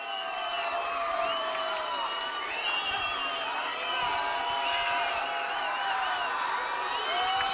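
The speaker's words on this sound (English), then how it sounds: "Listen for yourself, folks. It's a loud Lancer crowd here on a cold night." A loud Lancer home crowd cheers and shouts through a high school football game between Lawrence and Dracut on a cold night, a dense, steady roar with whoops rising over it throughout.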